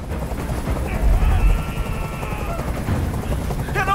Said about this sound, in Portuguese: Esse helicóptero tem que sair daqui agora!